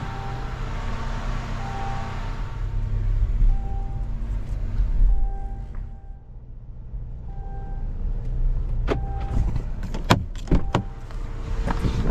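A car engine runs steadily with a low rumble, then shifts as the vehicle moves off, with a few sharp clunks and rattles near the end.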